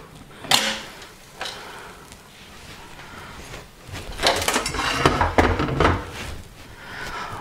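Lid of a Ninja Foodi Max multi-cooker opening after cooking barbecue ribs and baked potatoes, a short clack followed by a louder rustling, scraping burst of handling and venting noise.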